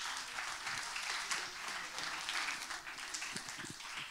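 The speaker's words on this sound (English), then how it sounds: "Can we give a big round of applause to Barak Weiss?" A talk audience welcomes speaker Barak Weiss with steady, fairly distant applause, an even wash of many hands clapping and occasional louder claps near the end.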